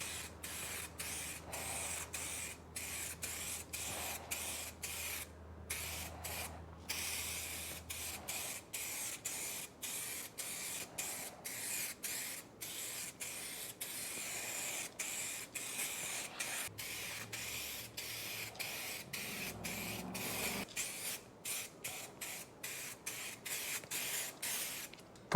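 Spray gun applying clear coat onto car wheels in a home garage, a steady hiss running through the whole stretch with brief pauses between passes, close and fairly loud with no talking.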